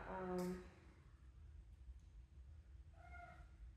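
A cat gives a loud, clear meow at the start, then a fainter second meow a few seconds later, against quiet room noise.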